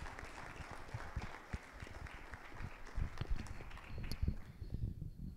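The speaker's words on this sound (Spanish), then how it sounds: "Démosle un aplauso, por favor, a los participantes y a ustedes también." An audience at a national Costa Rican gastronomy innovation gathering applauds its participants, with scattered, uneven claps swelling and thinning over several seconds, heard from a moderate distance.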